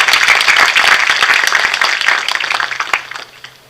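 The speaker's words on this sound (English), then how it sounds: "I request all of you to give a big applause to your parents" Audience at a medical college event clapping loudly for their parents, a dense burst of applause that thins out and fades toward the end.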